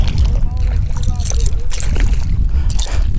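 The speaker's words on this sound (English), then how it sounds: "Stop splashing me, buddy." Water sloshing and splashing beside a small boat at night while flounder gigging, irregular splashes and slaps close by with people talking over them.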